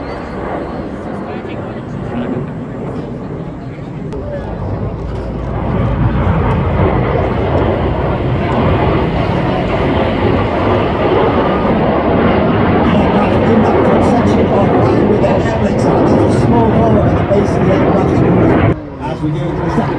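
Aerobatic display team jets flying in formation at an air show, a loud sustained roar building and holding for many seconds as they pass, with crowd noise and a commentator talking underneath.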